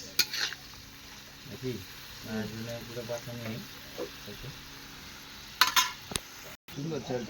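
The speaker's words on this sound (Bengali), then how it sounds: "তো চলো এখন ভালো করে আমি পনিরগুলো ভালো করে ভাজা করে নিয়ে যাই।" Paneer pieces frying in a pan at home, with a soft sizzle under intermittent stirring and scraping of a utensil against the pan, interrupted by sharper clinks, while someone talks over the cooking.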